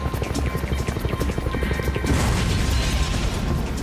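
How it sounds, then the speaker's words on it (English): Military helicopter flying near a compound during a night raid, a steady loud rotor chop and engine roar that grows denser and fuller partway through. "One of the helicopters positioned nearby makes its way to the compound to assist in evacuating them."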